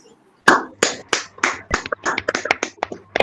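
Sparse, uneven claps from a handful of people joining an online book launch session, a dozen or so scattered sharp hand strikes over about three seconds, fairly close and moderately loud with no talking.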